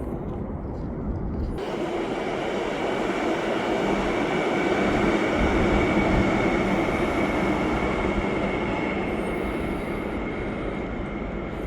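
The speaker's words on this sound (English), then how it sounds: "Here comes a Via train passing over the bridge here at the Lachine Canal with the old swing bridge." A Via Rail train crossing the bridge over the Lachine Canal beside the old swing bridge, a loud continuous roar and rumble of wheels on track that holds steady throughout, with no voices.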